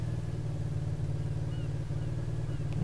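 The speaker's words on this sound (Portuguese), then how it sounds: "Eis que me chegam a moto." A motorcycle arrives in an Arma 3 Wasteland match on Altis, its engine a steady, loud, low droning hum that holds constant throughout with no talk over it.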